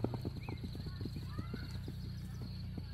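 Horse hooves clip-clop at a stable in Crimea, a run of distinct, moderately close hoof strikes in an uneven walking rhythm, fairly quiet, with faint background voices.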